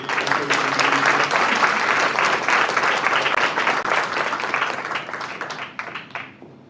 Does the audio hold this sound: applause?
yes